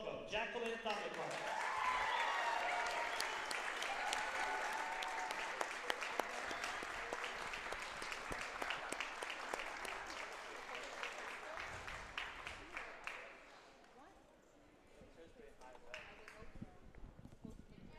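Audience applause in a gym at a women's college basketball game on senior day, a long, full roll of many hands clapping that thins out and fades toward the end, with some voices mixed in.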